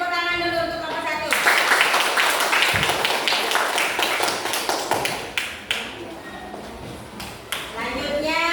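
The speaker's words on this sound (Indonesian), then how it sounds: "kasih tepuk tangan dulu untuk kelompok 1" A group of children in a classroom break into loud, dense clapping that follows a brief stretch of sustained tone, the applause running steadily for several seconds before thinning out.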